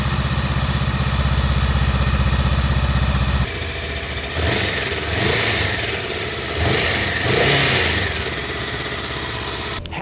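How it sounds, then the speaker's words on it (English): A Honda Rebel 500 motorcycle with its quiet stock exhaust hums close by, a steady low engine drone followed by smoother rolling revs and gentle throttle swells. "Pair that with this exhaust, and it seems like Honda engineered this bike to be as quiet as possible."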